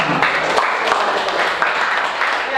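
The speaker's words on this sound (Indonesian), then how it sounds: "Berikan tepuk tangan." Students in a classroom clap together, a loud, close burst of many hands with a clear rhythmic pulse running through the short, steady applause.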